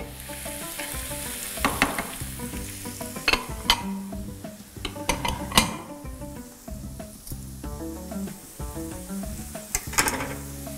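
Canned mushrooms sizzle in a frying pan with spices and salt, a close, steady hiss broken by repeated stirring scrapes and occasional clinks of the utensil against the pan.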